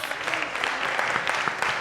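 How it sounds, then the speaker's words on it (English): A round of applause from an audience at a show, dense and steady clapping that fills the whole moment at moderate loudness with no voices over it. "Give them a round of applause"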